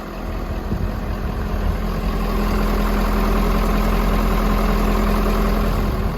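A 2011 Ford F-550 utility truck's 6.7 Power Stroke diesel idles steadily and evenly, a constant low rumble with no talk over it.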